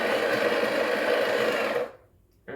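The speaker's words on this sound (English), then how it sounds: "I'm only going to do it with the grinder grinding" Breville Barista Pro BES878 grinding coffee beans, a loud steady whirring grind that cuts off abruptly near the end, then a brief restart.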